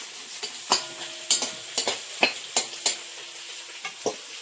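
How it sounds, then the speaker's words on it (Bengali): Lentil dumplings (bori) frying in a pan, with a steady sizzle beneath repeated sharp scraping and stirring clicks at irregular intervals, close and moderately loud, no voices. "ওই জলের মধ্যে ওই বড়িটা ভেজে নিচ্ছি"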